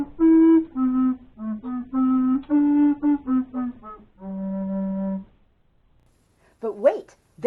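A bass recorder plays a run of low, breathy sustained notes, some short and detached and one long held tone near the end, close and clear, followed by silence and a brief higher squeak.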